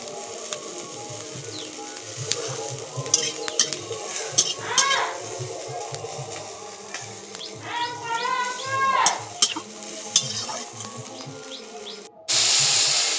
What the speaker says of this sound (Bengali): খুন্তি দিয়ে একটু দেখে নিচ্ছি সেদ্ধ হয়েছে কিনা।